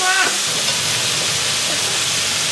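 Potatoes and carrots stir-fry in a hot pan with a loud, dense sizzle right up close, a brief clatter at the start as they go in, then an even hiss throughout.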